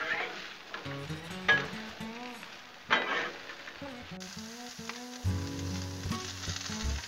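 Onions and peppers sizzle steadily on a Blackstone griddle as they are stirred together, with a few scraping and clinking accents over a continuous frying hiss and background music.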